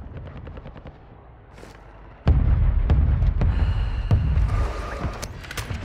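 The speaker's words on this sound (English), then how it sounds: "Mortar strike on the way." Mortar strike explosions in Call of Duty Warzone 2.0 open with distant gunfire rattling over a low drone. A sudden loud, heavy blast then lands, followed by a dense run of booming impacts and sharp cracks that keep the mix loud to the end.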